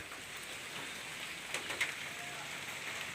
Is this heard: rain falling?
yes